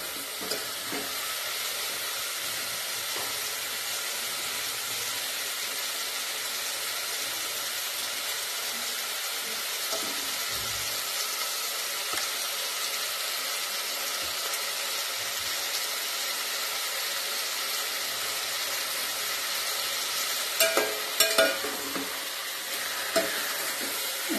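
Chicken fries in a pan with vegetables, a continuous bright sizzle and hiss running throughout, with occasional scrapes and clatters from stirring near the end and no talking.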